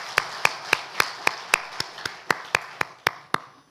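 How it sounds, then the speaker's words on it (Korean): Members of a church congregation at a Sunday service clap together to celebrate birthdays, about a dozen crisp, evenly spaced claps in a steady rhythm, close and clear with no talk over them. "우리 박수로 축하합시다."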